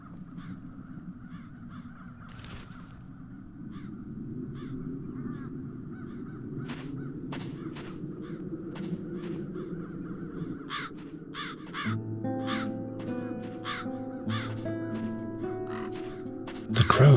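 Crows caw repeatedly in a scene from The Dark Eye: Chains of Satinav video game, with sharp, clear calls spread across a low ambient drone, and a musical score joins in near the end.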